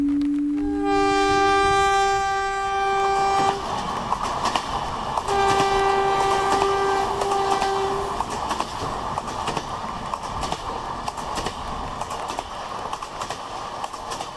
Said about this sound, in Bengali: হঠাৎ একটা ট্রেন ভোঁ করে ছুটে চলে গেল লাইন বরাবর।